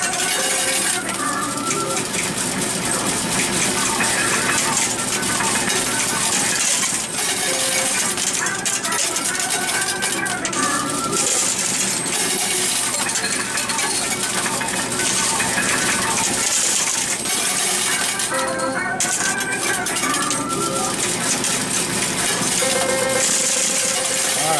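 Coins and plastic chips clatter and spill in a Wizard of Oz coin pusher arcade machine, set in a loud, dense wash of arcade electronics and music that runs without a break.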